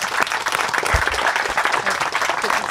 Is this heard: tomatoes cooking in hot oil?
no